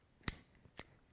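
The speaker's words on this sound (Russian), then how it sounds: "Правильно резать вот так. Упор, щелчок, все слышали." Ratchet pruning shears cut through a thick but fairly soft branch with three sharp, crisp clicks about half a second apart, close and alone in a quiet space.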